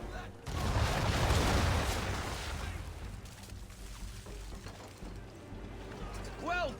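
Naval cannons firing round shot in Assassin's Creed III, a heavy booming broadside early on that rolls into a fading rumble, with a voice speaking near the end.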